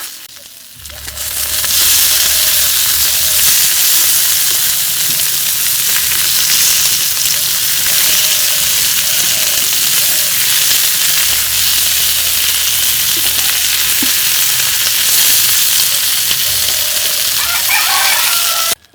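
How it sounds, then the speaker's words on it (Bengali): Bhetki fish paturi wrapped in banana leaf fries in a pan with a loud, steady, close sizzle, the crackle continuing unbroken for the whole stretch. "এখন সাইজ ভালো করে ভেজে দেখুন কেমন টিপটিপ টিপটিপ করে আয় হচ্ছে"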